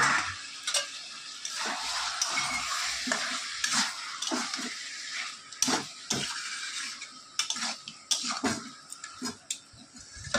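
Chopped onion and garlic fry in a hot pan, with a busy sizzle and frequent scraping stirs of a spoon against the metal, close and fairly loud.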